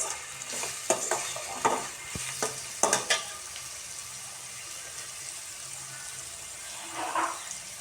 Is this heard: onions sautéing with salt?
yes